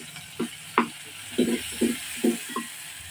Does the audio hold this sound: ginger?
yes